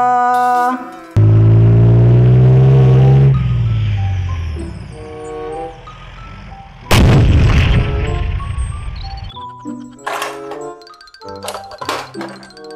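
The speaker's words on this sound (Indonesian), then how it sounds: "Tank baja." A toy armored tank fires, with a loud electronic boom and rumbling blast close up, a second explosion burst midway, plus tonal chimes and beeping sound effects in between and after.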